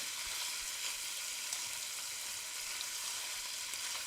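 Chicken pieces sizzle and fry steadily in a hot pot for chicken and dumplings, a continuous close crackling hiss with faint stirring, no voices.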